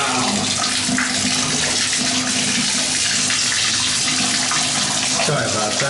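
A bathroom shower runs with strong water pressure, a steady loud broadband hiss of spraying water lasting throughout, up close, with a brief shift near the end as the stream changes.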